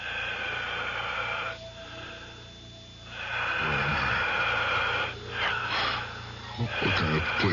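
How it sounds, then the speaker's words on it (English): Eerie, heavy breathing effect in a radio drama, a wheezing, snorting rhythm of long breaths that swells, drops away briefly, then returns with rougher snorts, close and fairly loud throughout. "It sounds like the whole room is breathing. I can hear it breathing."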